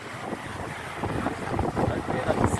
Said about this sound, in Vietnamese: ba cha con tranh thủ hóng gió biển về đêm